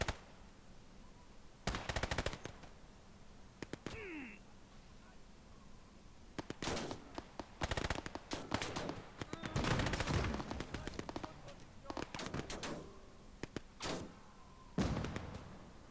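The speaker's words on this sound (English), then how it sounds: "Go on the anti-aircraft guns." Anti-aircraft guns fire during a Battle of Moscow skirmish in the strategy game Gates of Hell, scattered sharp bursts and single cracks of varying loudness, some near and some distant, separated by quiet gaps.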